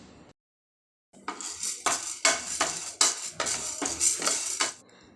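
Chana dal is dry roasted in a pan at home for sambar powder, heard as a close run of rhythmic metallic scraping and rattling strokes from a spoon against the pan after a short silence.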